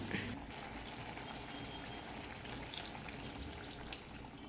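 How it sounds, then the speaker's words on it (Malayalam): A faint, steady stream of water being poured, splashing softly into onion curry in a pot, low and close with a dull background hum. "ഇനി ലേശം വെള്ളം കൂടെ ഒഴിച്ച് കൊടുക്കാം"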